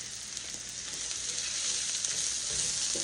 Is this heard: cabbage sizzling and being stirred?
yes